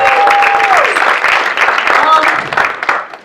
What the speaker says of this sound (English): can we just give a big round of applause to all the comedians tonight?